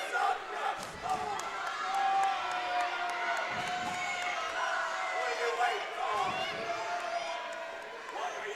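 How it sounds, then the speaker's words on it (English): The Smyrna crowd at a high school wrestling match yells and chants loudly and steadily for a stall, with whoops and shouts rising over a commentator's voice throughout. "The Smyrna crowd calling for a stall here."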